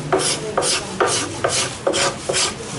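Hand scraping of Siamese rosewood (cẩm lai) furniture: six rhythmic rasping strokes, each a bright scrape with a soft pause between, steady and close, with no voices.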